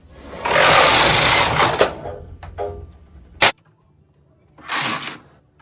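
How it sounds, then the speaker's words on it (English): A bulky knitting machine knits circular rows with a loud rasping carriage pass, several shorter clacks and a sharp snap, then a pause and a second pass. "from this point on I will just start knitting"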